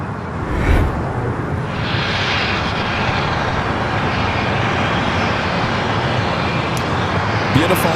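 Airbus A220-300 arriving on the south side at LAX, steady moderately loud jet engine rumble and whine passing throughout, with talk over it.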